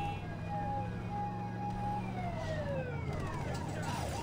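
A police car siren wails in the video game Saints Row, a steady tone that breaks into sweeping rising and falling wails over a continuous low engine rumble.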